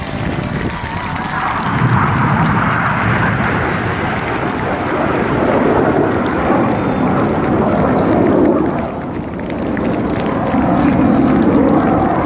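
Red Arrows RAF aerobatic jets roar past at the Wales National Air Show, a loud sustained jet rumble that swells and fades as the display passes overhead.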